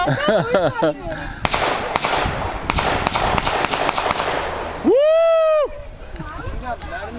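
Blank-firing guns go off outdoors at a streamside picnic, several sharp, separate cracks spread over a few seconds amid family chatter, with a loud whistle-like tone cutting in near the end.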